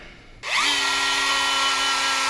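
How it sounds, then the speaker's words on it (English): A Dremel rotary tool grinding at a stuck bolt: after a quiet moment the motor snaps on and whines up to a loud, steady high-pitched drone that holds without pause, close to the listener. "I'm using a Dremel tool"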